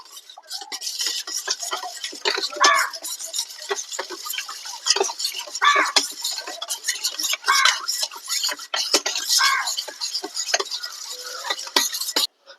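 Spoon scraping and clicking against a bowl while banana fritter batter is stirred with turmeric, a busy irregular rhythm of close, light taps and swishes.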